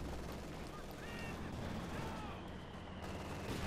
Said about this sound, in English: machine gun fire, heavy main cannon fire there